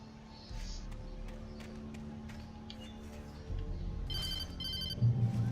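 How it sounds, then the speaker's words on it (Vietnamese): A telephone rings in the video game Alan Wake, a faint repeating electronic ring over a low steady background, growing louder toward the end with footsteps and clatter. "Có điện thoại."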